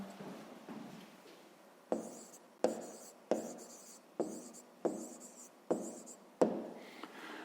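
Pen writing out a solution to a grade-5 maths exercise on paper, a run of short scratchy strokes with regular taps at the start of each line, close and quiet with no voices.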